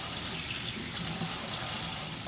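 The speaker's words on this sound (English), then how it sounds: "let me rinse my tablespoon measure off" Tap water running steadily into a sink as a tablespoon measure is rinsed, a continuous soft splashing hiss, close and fairly quiet, with no talking.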